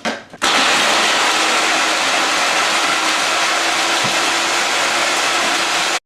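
A kitchen blender grinds biscuits down to fine crumbs, its motor roaring at a steady, loud whine for several seconds before cutting off abruptly.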